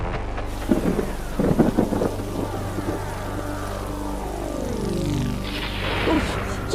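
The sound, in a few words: thunder and rain in a cartoon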